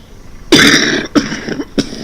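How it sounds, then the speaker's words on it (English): An elderly woman on a rustic farm coughs three times in quick succession: a loud, harsh first cough followed by two shorter, chesty ones, close by with no talk. "I don't like the sound of that cough."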